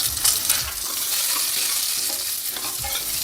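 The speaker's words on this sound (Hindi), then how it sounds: "और इनको अच्छे से भून लेंगे अब।" Red chillies, black peppercorns, chana dal, urad dal and rice dry roasting in a pan, a steady near sizzle with scraping stirs and crisp rattling of the grains, heard alone.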